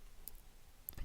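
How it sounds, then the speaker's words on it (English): A few faint computer mouse clicks, short and quiet, land at the start and near the end while someone browses a book website. "I'm going to click on that"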